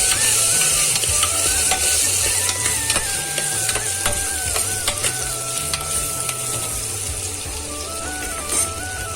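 A spoon scrapes and clinks steadily around a pan as potato curry with coriander-cumin powder and red chili powder is stirred, with a light sizzle underneath and no talking.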